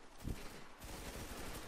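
Faint rapid gunfire in a video game, a quick rattling volley followed by continuous distant shooting, low in level throughout.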